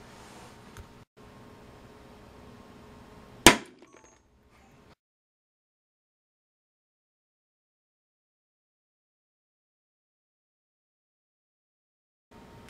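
A one ampere fast-blow glass fuse blows in a test jig run off generators. Steady generator hum gives way to a single sharp crack with a brief ringing clink, followed by near silence.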